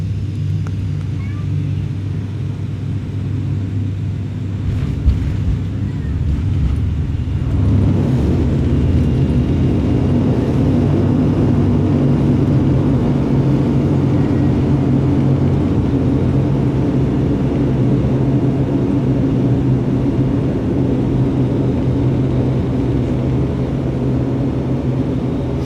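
Aurigny turboprop airliner near Guernsey Airport, a steady loud low engine drone and rumble that holds throughout, thickening after the first few seconds as the propellers build, with no talk over it.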